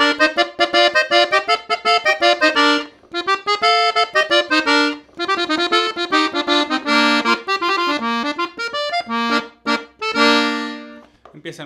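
An accordion tuned in F plays an arrangement of a song, a bright, reedy run of quick melodic notes in octaves and triplets with steady rhythmic pulses, loud and close, with no talking.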